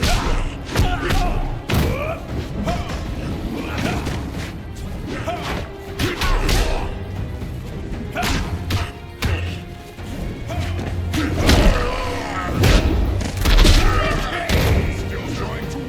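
Punches, kicks and body impacts land in a Mortal Kombat 9 fight, loud thuds and smashes hitting in quick irregular bursts over steady game music and effects, with no pauses.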